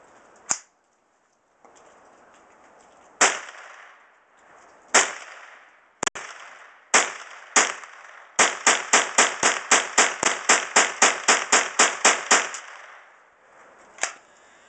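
A Ruger 10/22 rifle fires from a 25-round magazine. Sharp, close cracks come singly with pauses at first, then turn into a rapid even string of about fifteen shots, and one last shot follows after a gap.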